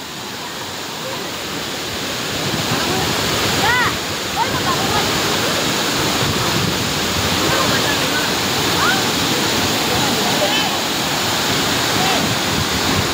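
Mantayupan Falls roars with a broad, steady rush of falling water close by, continuous and loud, with faint voices and chirps scattered under it.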